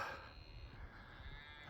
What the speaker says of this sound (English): it's the sound of a moo cow.